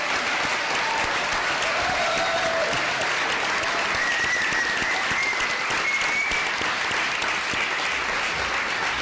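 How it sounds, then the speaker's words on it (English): Dense, continuous audience applause for award nominees at a university ceremony, loud and unbroken with a few whistles rising above the clapping. "Can we please applaud the nominees?"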